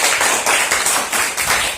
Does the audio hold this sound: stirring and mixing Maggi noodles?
no